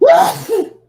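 A single sharp sneeze up close: a quick inhaled gasp followed by a short explosive burst, loud and brief.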